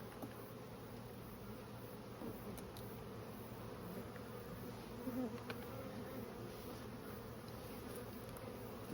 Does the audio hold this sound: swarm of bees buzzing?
yes